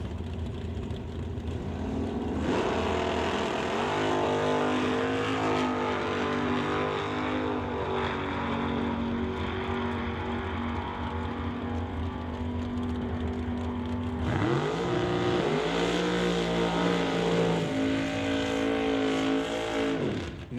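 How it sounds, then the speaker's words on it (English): A Chevy Nova makes a single drag racing pass in the National Tire Non Electronic Series: a loud, sustained engine roar that climbs steadily in pitch, with a fresh surge of revs partway through. "We bring up Darian Burst first in the Chevy Nova on a single pass"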